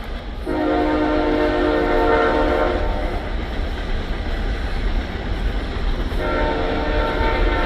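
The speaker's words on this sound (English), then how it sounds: "There goes the trains." A train rumbles steadily past at close range, its horn blaring loudly at the start and again near the end.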